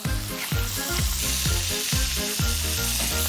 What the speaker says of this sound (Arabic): كنحطوا اللحم ديالنا فوق الورقه ديال الازير، كنخليوه يطيب على المهل